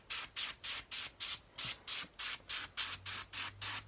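An airbrush sprays paint in about eleven short, regular bursts onto a diorama base, each a crisp close hiss separated by brief pauses.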